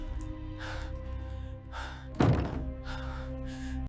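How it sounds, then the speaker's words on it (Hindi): A door shuts with a single heavy, close thud midway through, set against a low droning hum and soft airy swells before and after. "दरवाजा बंद हो चुका था और अब वापसी का कोई रास्ता नहीं था।"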